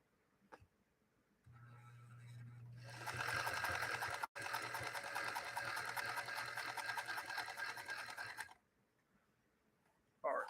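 Featherweight sewing machine stitching through six layers of denim: a steady, fast mechanical whir with rapid needle clatter lasting several seconds, briefly pausing once, then stopping, with quiet handling before and after.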